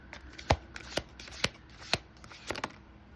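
Dream Oracle tarot cards are shuffled by hand, giving a steady run of soft papery riffles and sharp slaps roughly every half second, close and alone without talk.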